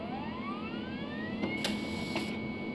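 A photocopier prints in the point-and-click adventure game The Mystery of the Druids, a steady whirring hum with a rising whine and two brief clicking bursts near the end, fairly quiet and without talk.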